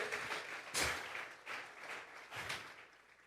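A Spanish-speaking church congregation at a Sunday morning service gives a round of applause, a wash of many hands clapping at a moderate distance, swelling and easing in waves.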